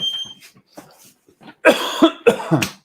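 Several harsh coughs burst out in quick succession, loud and close, after a stretch of quieter rustling and faint movement sounds.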